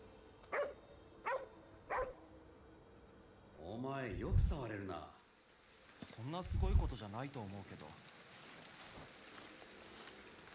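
Dog barks from the video game Ghostwire: Tokyo: a few short clicks early on, then two longer bursts of barking and whining against steady rain ambience, with someone talking over it.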